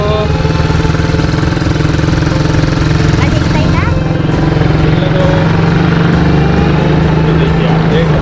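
An ATV or motorbike engine runs loud and steady throughout a desert ride near Sam in Jaisalmer, a constant close rumble with a rising whine partway through, and voices talk over it.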